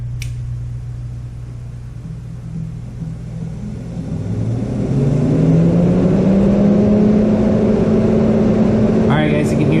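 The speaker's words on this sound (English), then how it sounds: "you can hear the fan running on high" A 2005 Chevrolet Corvette's radiator cooling fan hums loudly, its whir rising in pitch and volume partway through as it switches to high, then holding at a constant high drone.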